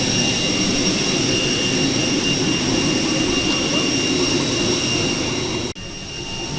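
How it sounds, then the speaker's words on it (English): Passenger jet engine at an airport: a loud, steady, continuous roar with a high whine on top, heard close for several seconds before it cuts off abruptly. "So I think the plane is just behind us."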